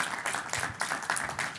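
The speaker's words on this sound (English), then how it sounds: "Give yourselves a round of applause," Audience at an embedded Linux conference in Seattle claps, a short burst of steady applause from a room full of people, moderately loud and even throughout.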